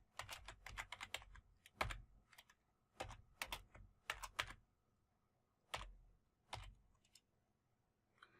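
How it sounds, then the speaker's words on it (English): Bursts of rapid keyboard typing, close and crisp, in short clusters separated by brief pauses, with no voices. "I'm going to start typing."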